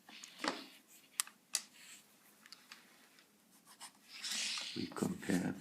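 A 1960s Montblanc Meisterstück 12 fountain pen with a double broad nib scratches across paper in short, faint strokes, a few quick scribbles separated by quiet gaps, with a louder rustle toward the end.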